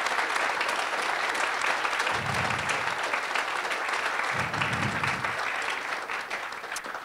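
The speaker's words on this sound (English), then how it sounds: "let's give them a round of applause" An audience applauds Denver Water employees at the Northwater Treatment Plant ceremony, steady dense clapping holding for several seconds before thinning slightly at the end, with a couple of low thumps beneath.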